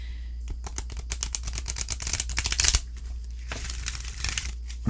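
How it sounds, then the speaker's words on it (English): A deck of Cat Wisdom oracle cards is shuffled up close, with rapid crisp papery flicks and riffles in dense bursts, then a softer shuffle before a brief pause. "Let's try a shuffle."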